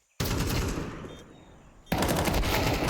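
Two loud, rapid bursts of automatic gunfire from a Counter-Strike match between Virtus.pro and BIG at BLAST Premier, split by a brief drop in intensity, close and dense.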